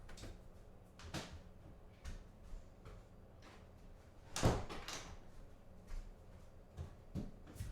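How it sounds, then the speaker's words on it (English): A side door in a home closes quietly amid faint scattered taps and clicks, with one firmer thud of the door shutting near the middle. "let me close the side door"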